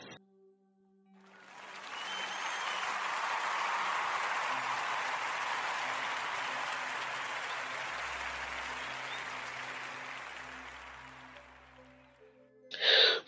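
A round of applause on a radio podcast program swells up after a second, holds as a broad steady wash of clapping, then fades away, with faint low tones underneath near the end.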